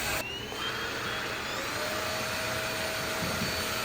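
A cordless, rechargeable stick vacuum cleaner runs steadily on its higher suction setting, producing a constant whirring motor whine with a broad airy rush, fairly moderate in loudness and heard alone without talk.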